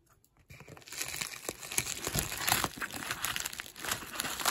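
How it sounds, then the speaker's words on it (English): Plastic packaging crinkles and crumples up close as a parcel of speed cubes, including a GAN pyraminx, is opened, with busy rustling and a brief tearing sound after a short silent start. "the package finally came, so let's open it right up."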